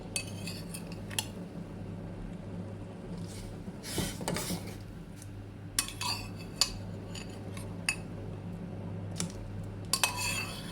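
Daikon radish pieces are dropped into a pot of Thai sour curry with shrimp and mixed vegetables. Scattered metallic clinks and knocks of a utensil against the pot sound close by over a low background hum, with no talking.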